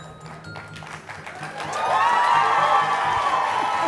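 An audience at a talk event breaks into applause that builds from scattered claps into a full, dense ovation with some cheering, sustained loudly to the end.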